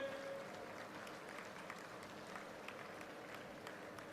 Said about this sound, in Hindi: जोरदार ताली बजा करके पीछे तक खड़े होकर के